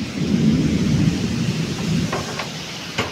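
Heavy rain pours down with thunder rolling through it, a loud, steady low rumble that swells and holds, with a few sharper cracks near the end.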